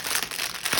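Packaging crinkles and rustles continuously up close as something is unboxed, a dense, steady crackling with no voices.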